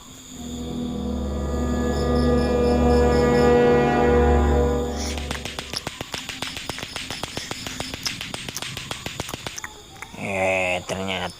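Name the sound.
lato-lato clacker toy being played, in animation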